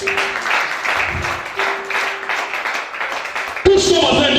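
A church congregation applauds and cheers in praise, a sustained wash of clapping and voices under a loud preacher's shouted speech, swelling into a stronger burst at the end.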